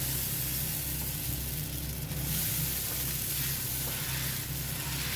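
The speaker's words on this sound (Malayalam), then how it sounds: "ഇതാ നമ്മുടെ കല്ല് ചൂടായിട്ടുണ്ട്. ഞാൻ എന്താ മാവ് ഒഴിച്ചു കൊടുക്കുകയാണ്." Wheat batter poured onto a hot stone griddle for a Malabar snack sizzles with a steady, close hiss that rises briefly as more batter hits the surface. No talking.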